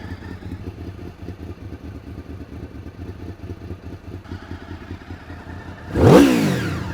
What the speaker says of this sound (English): Love that V4 sound.